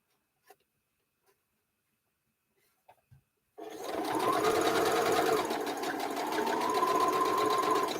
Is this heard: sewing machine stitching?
yes